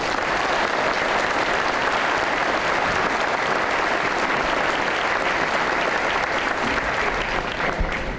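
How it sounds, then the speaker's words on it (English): A crowd at a university commencement gives a dense, even round of applause that holds at a steady volume throughout, with no voices over the clapping. "May we have a round of applause"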